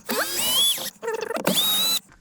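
A power screwdriver with a T15 bit whirs in short bursts while undoing screws on a VW Sharan head unit, two high whining spins separated by a brief ratcheting stretch, close and alone.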